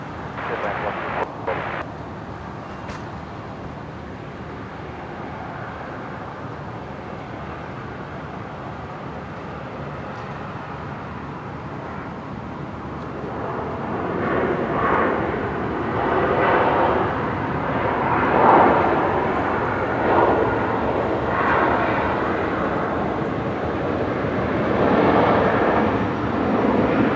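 A Velocity airliner in from Melbourne lands at Brisbane Airport, its broad jet roar steady and distant at first, then swelling louder in the second half as it passes.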